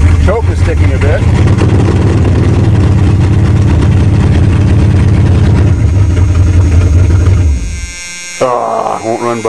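A farm engine runs after a winter cold start with a sticking choke, a loud steady low rumble that cuts out near the end, followed by a voice speaking.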